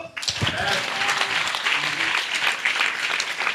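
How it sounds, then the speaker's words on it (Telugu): A church congregation at a special IPC fasting gathering claps together in a steady, dense burst of applause, close and continuous for several seconds. "చప్పట్లు కొట్టు"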